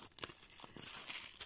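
Bubble wrap around a small parcel packet crinkles and tears as it is opened, a quiet, close run of crackling rustles with no talk.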